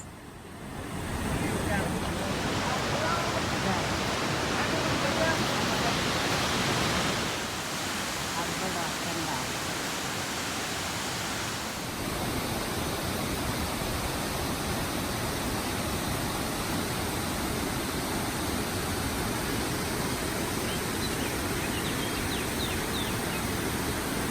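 Waterfall pouring over ancient Precambrian rock in Waterton Park in the Canadian Rockies, a steady dense rush of falling water that drops slightly in level partway through, then continues evenly.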